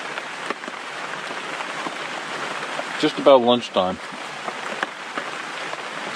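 Rain falling steadily on a winter campsite in the Catskills, a soft, even patter throughout, with a man's brief spoken remark partway through.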